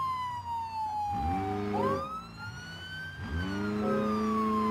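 A police car siren sounds in the driving game BeamNG.drive, a wail that sweeps down and then up while the engine of a car with a straight pipe revs and roars beneath it.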